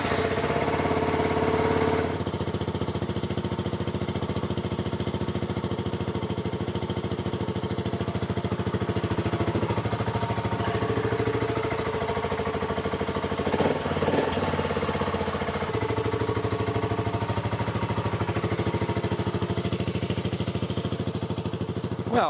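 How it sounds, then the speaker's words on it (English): A BSA Goldstar single-cylinder motorcycle with a TEC performance baffle idles close by in a steady, mellow, thumping burble. The engine note holds constant throughout, with no voices over it. "You can still hear that single cylinder thump."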